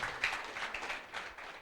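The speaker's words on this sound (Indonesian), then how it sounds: "tepuk tangan bagi Yesus Tuhan kita" A church congregation claps in a short burst of applause, with dense, slightly uneven hand claps at a moderate distance.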